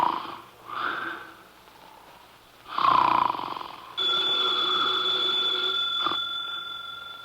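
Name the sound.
snoring through the nose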